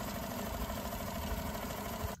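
Yamaha outboard engine idling with the choke off after servicing, a steady broadband mechanical drone with a low rumble that holds even throughout, heard up close with no voices.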